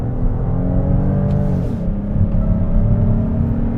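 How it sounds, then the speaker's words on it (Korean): A Kia Carnival 3.5-litre gasoline V6 accelerating on a paved road, a loud, steady engine drone heard from inside the cabin, pulling continuously without a break. "그 6기통 엔진 사운드가 제법 납니다."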